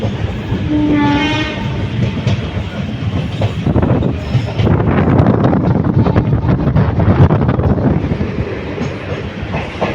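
A passenger train pulls into Karaikal station on the run from Nagapattinam, its horn sounding briefly near the start over loud rumbling wheels, rattling carriages and wind buffeting the microphone.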